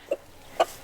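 Three short, soft clucks from a chicken, spaced unevenly over a quiet background.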